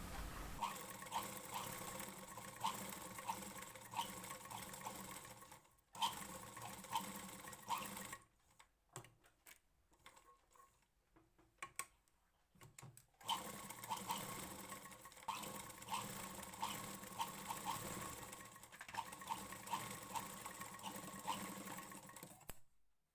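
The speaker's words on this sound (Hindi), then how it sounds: "इस तरह से गले पर सिलाई लगाने के बाद अब हम दूसरे गले पर सिलाई लगाएंगे" Sewing machine stitching a blouse neck, running steadily and quietly for long stretches, with a pause of light ticking and handling before the stitching resumes, close and continuous.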